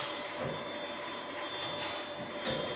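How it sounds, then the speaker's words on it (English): A train approaching near a colliery pit site produces a continuous rumbling, rattling wash of noise with a steady high ringing tone running through it, loud and sustained with no talk. "Got this train coming."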